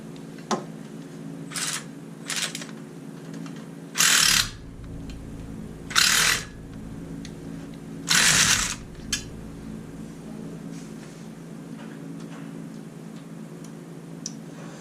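A hand tool works on exhaust bolts of a Can-Am Maverick side-by-side, heard as a few scattered clicks and several short, loud ratcheting bursts against a steady background hum, close by and with no speech.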